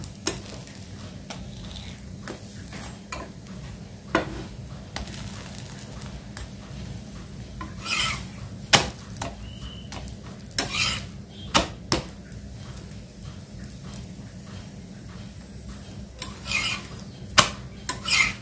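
An aloo paneer paratha roasts in oil on a pan, a low, faint sizzle under repeated quick scraping and tapping as it is pressed and turned, close by and without speech.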